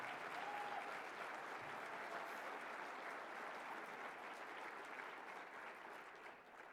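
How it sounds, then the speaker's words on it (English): Sustained applause from a conference audience at a breakfast session, a dense, even wash of many hands clapping that holds steady throughout and fades slightly at the end, heard from within the room. "Applaud right now."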